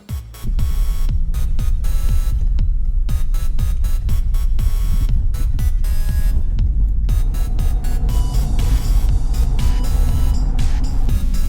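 Ford Escape being driven on a test drive after an AC repair, a steady loud road and engine rumble that carries on throughout with no talk.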